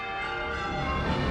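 Church bells ring as a sustained, dense wash of overlapping metallic tones, steady and fairly loud, with no talking.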